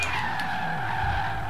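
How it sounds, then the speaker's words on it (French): Car tires skidding in the video game Forza Horizon 3 during a loss of control, a sustained squealing screech over steady engine noise, loud and close. "J'ai une perte de contrôle du véhicule."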